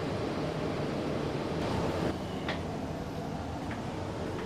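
Passing train on an Indonesian railway, the Bengawan service overtaking: a steady, loud rushing roar of wheels and wind throughout, with a few brief higher squeals or clanks near the middle and end.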